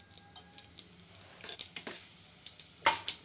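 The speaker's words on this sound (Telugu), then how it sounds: "ఆయిల్లోకి మనం పోపు దినుసులు వేసుకుంటున్నామండి, ఆవాలు, జీలకర్ర" Mustard seeds and cumin go into hot oil in a pan, producing faint scattered pops and short sizzling bursts, quiet and close, with one sharper crackle near the end.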